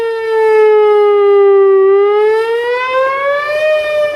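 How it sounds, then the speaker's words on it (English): An outdoor tornado warning siren sounds during a test in Jessamine County, a loud, clear wailing tone that dips and then climbs again as the rotating horn sweeps around, with no other sounds. "the audible cone of the siren rotates 360 degrees"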